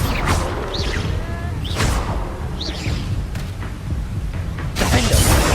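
Confringo fire spells burst in Hogwarts Legacy: several sharp whooshing blasts with crackling impacts and thuds come in quick succession over a dense, rumbling battle din, near and loud.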